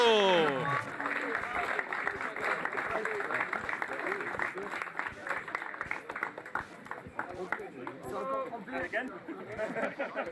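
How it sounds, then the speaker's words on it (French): A crowd claps and cheers throughout for the podium at an urban downhill mountain bike race, the applause steady and lively, with a voice speaking over it at the start. "Le podium, on les applaudit très fort avec Kevin Meyer, Ben Gour et Baptiste Gaill"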